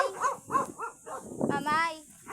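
A dog in a yard near a mango tree gives a run of short barks and yips in quick bursts, close by, mixed with people talking.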